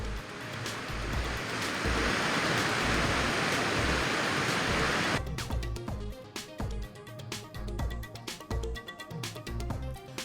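Water roars in a loud, continuous rush from the Gangapur dam discharge in Nashik, released at 7,372 cusecs, then abruptly gives way to punchy rhythmic music with sharp beats.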